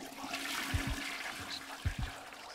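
A toilet flushing inside a horror video game, heard as steady rushing water with a couple of low thumps, fairly close and alone without talk.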